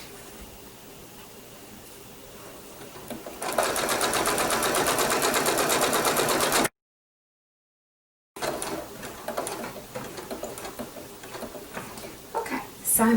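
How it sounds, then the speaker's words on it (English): A sewing machine stitches quilt binding with a steady, fast mechanical whir in one sustained burst, followed after a gap by softer clicks and handling noises as someone speaks. "And then we just stitch all the way down."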